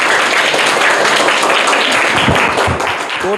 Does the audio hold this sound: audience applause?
yes